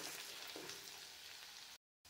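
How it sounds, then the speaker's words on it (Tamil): Ginger and garlic fry in a pan, a close steady sizzle that carries on evenly before cutting off abruptly near the end. "இப்போ இதையும் நல்லா பச்சை வாசனை போகிற அளவுக்கு நல்லா வந்து ஃப்ரை பண்ணிக்கோங்க."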